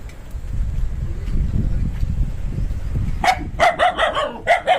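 Two dogs on a buffalo farm keeping Jafarabadi buffaloes and Gir cows break into loud, close barking after a low outdoor rumble, several sharp barks in quick uneven bursts.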